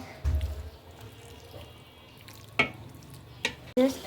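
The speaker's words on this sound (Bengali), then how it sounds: "নাড়াচাড়া দিয়ে নিচ্ছি।" Beef and new potatoes are stirred in a hot pan, a low sizzle running under scattered scrapes and clatters of the spoon against the pan, close and fairly quiet.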